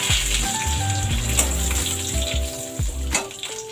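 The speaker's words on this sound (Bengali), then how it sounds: "তারপর শুকনো লঙ্কা আর কালো জিরে ফোড়ন করে নেব।" Dried red chillies and black cumin crackle and sizzle in hot mustard oil, a close, steady frying patter with a few sharper pops and no talking.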